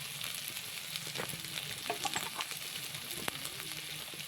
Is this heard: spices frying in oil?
yes